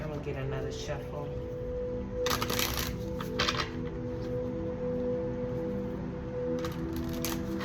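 Tarot cards riffle and snap in a few quick bursts of shuffling, close by, over a steady background hum.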